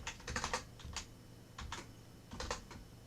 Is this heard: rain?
no